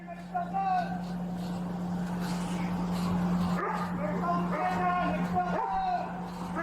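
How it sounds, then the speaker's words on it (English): A police dog barks and yips excitedly during a stop at the end of a chase involving a stolen Peterbilt semi truck, repeated barks over a steady engine hum while people shout nearby. "Oh, they got the dog too?"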